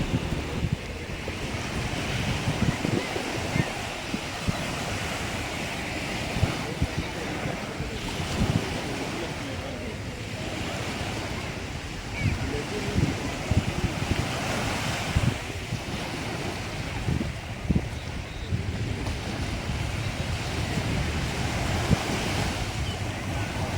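Sea waves break steadily on Cherai Beach on a Sunday evening, a continuous broad rushing surf with gusts of wind buffeting the microphone, loud and close throughout with no talk.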